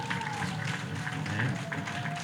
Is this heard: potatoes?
no